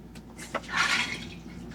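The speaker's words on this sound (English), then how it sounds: "I'm going to flush the toilet to get rid of the water that's in" A Dometic 310 RV toilet flushes nearby, a brief rushing swirl of water that rises quickly and then fades.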